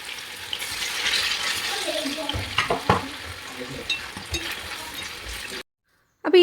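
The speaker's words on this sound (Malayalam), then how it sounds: "ഇതാ നമ്മൾ ഫ്രൈ ചെയ്യാനുള്ള ചിക്കൻ ഞാൻ ഇട്ടെടുക്കുകയാണ്" Chicken pieces fry in hot oil for a chicken dum biryani, giving a steady close sizzle broken by stirring scrapes and clatter before the sound cuts to silence.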